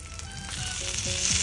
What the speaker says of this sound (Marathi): आता बोंबील टाकतोय. वा, पिझ्झा पण टाकतोय. कसला भारी सुगंध येतोय. आवाज पण बघा किती छान येतोय.